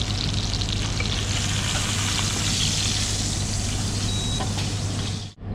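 Steak sizzles steadily in a hot pan, a loud continuous close frying hiss with a low hum beneath, fading abruptly at the end.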